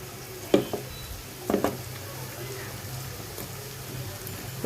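Potatoes frying in oil with a low, steady sizzle, broken by a couple of brief scraping stirs near the start.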